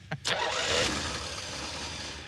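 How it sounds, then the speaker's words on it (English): A Pontiac Trans Am cranks briefly, then its engine catches and fires up loudly nearby, settling into a rough, steady idle. "Let's see if it cranks. Fires right up."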